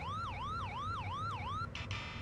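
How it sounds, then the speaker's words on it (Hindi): Ambulance siren sound effect for an animation: a loud, close electronic wail that rises and falls in steady repeating sweeps, then cuts off abruptly near the end. "फिर एम्बुलेंस की वॉइस आएगी"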